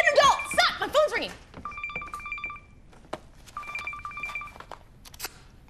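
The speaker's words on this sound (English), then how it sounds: "My phone's ringing!" A telephone rings in two long electronic trill bursts with a quiet pause between them, following a stretch of excited talk at the start.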